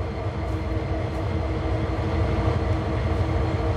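Diesel locomotive in Train Sim World 2 on the Cane Creek subdivision: a steady, droning engine rumble with layered low hum and faint mechanical hiss, constant and fairly close, no talk.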